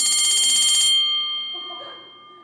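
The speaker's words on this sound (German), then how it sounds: "Das war mein Handy." A bright electronic mobile phone ringtone trills rapidly for about a second, then cuts off, leaving a lingering hum and faint room noise.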